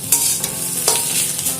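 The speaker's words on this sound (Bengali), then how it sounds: "এটা খুন্তির সাহায্যে নাড়াচাড়া করে আস্তে আস্তে ছাড়িয়ে নিতে হবে।" A spatula stirs mashed taro paste seasoned with salt and turmeric in a pan over a low flame, giving a soft continuous sizzle broken by a few scraping strokes, close and with no talk.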